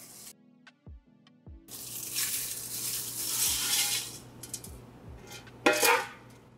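Hot melted soy wax poured from a Soy Lite wax melter, heard as a steady close hiss and splash of liquid with clinks of metal, ending in a louder clatter.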